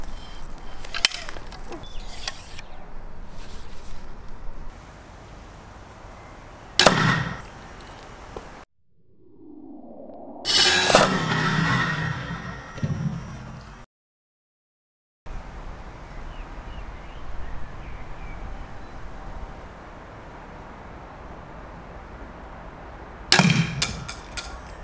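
Crossbow bolts strike a Thor's hammer fixed end-on to timber, giving a few sharp, loud, isolated impacts spread far apart, with a brief clattering burst in the middle and quiet outdoor background between.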